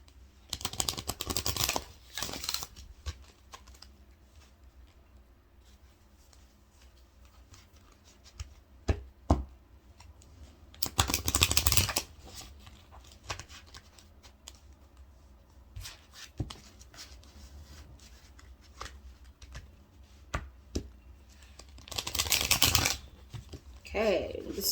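Tarot cards being shuffled in three brisk bursts, separated by quieter stretches with faint handling sounds.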